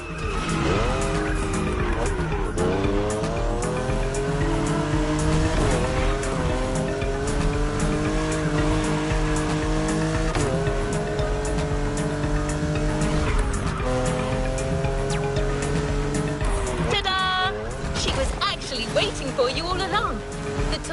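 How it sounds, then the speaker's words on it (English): A Toyota Supra A80 Special Edition is driven in The Crew Motorfest with a loud, steady engine note that rises and falls through gear changes, with tire squeal near the end, while people talk over it throughout. "did you enjoy driving that Toyota Supra we lent you for the final event?"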